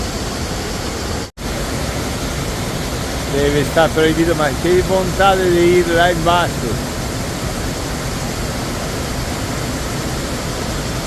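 Waterfall in a national park in Croatia, a steady broad roar of falling water close by, with a person talking over it partway through.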